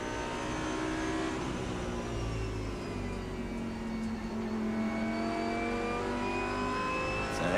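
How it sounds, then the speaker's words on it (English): Lamborghini DTM race car at Zolder circuit during qualifying, engine note rising steadily as it builds speed through the gears, a continuous loud onboard roar with climbing harmonic whine and no talk. "Nico Muller on board with him now as he builds up speed"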